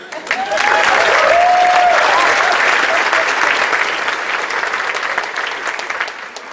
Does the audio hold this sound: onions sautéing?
no